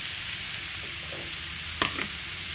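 Flavored brinjals tossed into sautéed onions in a pan, a steady high sizzle with one sharp clattering scrape near the end, close and alone.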